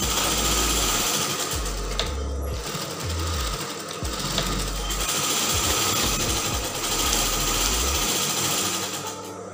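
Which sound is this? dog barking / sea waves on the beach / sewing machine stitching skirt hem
sewing machine stitching skirt hem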